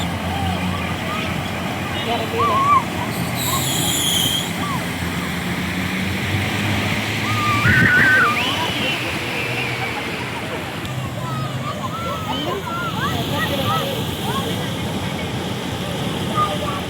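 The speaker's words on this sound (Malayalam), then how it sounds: "ഓരോരോ വണ്ടികൾ വരുമ്പോൾ ഇങ്ങനെ വെള്ളം വരുമ്പോൾ ശരിക്കും തിരമാല അടിച്ച് വരുന്ന അതേ പ്രതീതി" Vehicles drive through rain floodwater on a road at the Dubai–Sharjah border, throwing up splashes like waves, a steady broad wash of water and traffic noise throughout with brief surges; a voice talks over it.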